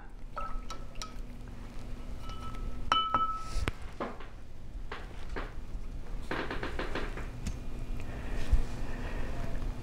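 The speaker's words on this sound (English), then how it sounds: "So I'm gonna rinse out my brush and I'm gonna put some more of my white." A paintbrush is swished and rinsed in a glass jar of water, giving soft watery sloshing with a few light clinks against the glass, quiet and close.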